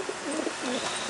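Pigeons coo softly in a few low, rolling calls over a steady background hiss at feeding time, faint and somewhat distant.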